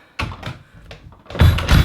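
A wooden door, swollen from winter moisture, scrapes and thumps as it is tugged open, with a few knocks and a louder grinding push at the end.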